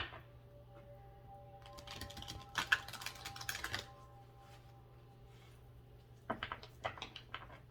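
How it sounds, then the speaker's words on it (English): Soft, rapid clicking and fluttering of cards being shuffled, two bursts separated by a quiet pause, close by over a low steady hum. "And then we have 1 more shuffle."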